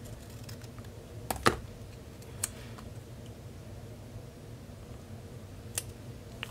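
Paper is cut for a memory keeping page, a few crisp scissor snips and light clicks scattered over a quiet room background, with no talk.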